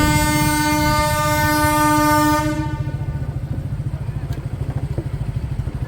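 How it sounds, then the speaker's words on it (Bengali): A train standing at a railway station at dusk sounds a long steady horn that cuts off after about two seconds, followed by a rhythmic idling engine chug, loud and close. "চারিদিকটা দারুণ লাগছে যে ট্রেন দাঁড়িয়ে আছে"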